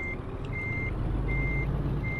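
Reversing beeps from a truck in Euro Truck Simulator 2, a steady string of evenly spaced electronic tones over a low engine rumble, with no talking.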